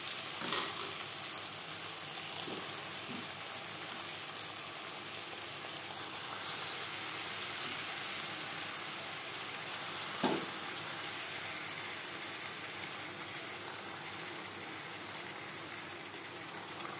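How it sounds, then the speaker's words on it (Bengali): Marinated chicken hits frying onion and tomato in a pan for Bengali aloo chicken, a soft, steady sizzle and hiss with a few small pops and clatters, heard alone. "এই পর্যায়ে দিয়ে দেব ম্যারিনেট করে রাখা চিকেন"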